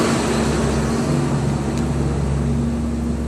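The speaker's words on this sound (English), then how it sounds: "As I said, had a school bus firing up and getting out of here," A diesel school bus idles and pulls away nearby, a loud, steady low rumble and drone that stays constant throughout with no talking.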